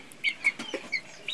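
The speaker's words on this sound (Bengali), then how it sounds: "আমাদের মুরগিগুলো একটু ছেড়ে দেওয়া হয়েছে" Chickens let out of their coop cluck in short, quick bursts, several close soft calls scattered across a brief moment with quiet between them.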